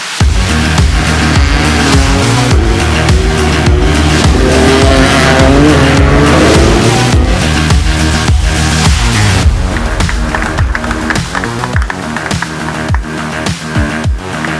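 Toyota GR Yaris race cars at a Gazoo Racing festival, loud engines revving and roaring past with repeated sharp tire squeals and skids, continuous and close with no talk.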